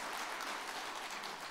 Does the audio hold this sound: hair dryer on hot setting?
no